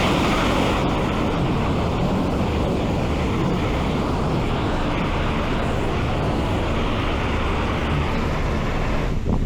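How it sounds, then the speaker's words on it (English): A loud, continuous broadband hiss of a jet wash spraying water on a car at a car wash, steady and close throughout with no pauses or voices. "I better spray that"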